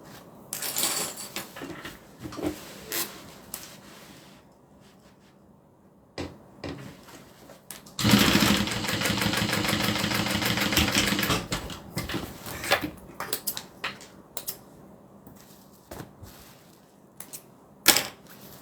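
A sewing machine stitches a pocket onto a fabric pot holder, giving a loud, close burst of rapid mechanical stitching in the middle, surrounded by scattered clicks and handling knocks.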